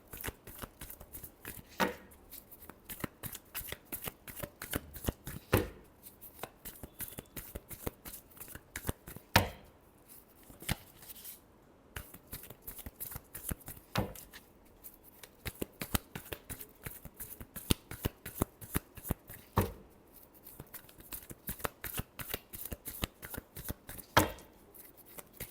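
Tarot cards being shuffled by hand, a long run of rapid crisp riffling clicks and flutters in uneven bursts, close and clear, with short pauses between shuffles and no talking.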